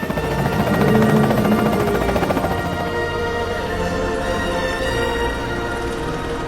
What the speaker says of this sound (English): He boards, and moments later, the chopper ascends over Jurassic Park and speeds over the sunlit ocean.